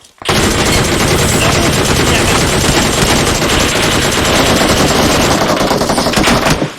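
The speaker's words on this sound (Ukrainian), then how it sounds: "стріляють." Continuous rapid automatic gunfire from PUBG Mobile fills the clip, loud and unbroken for several seconds before cutting off.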